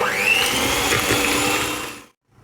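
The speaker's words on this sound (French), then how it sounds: "on va fouetter tout ça pendant à peu près 30 secondes dans un premier temps" An electric hand mixer starts and spins up to a steady high whine while whipping a cold cake mixture, running loud and close for about two seconds before cutting off abruptly.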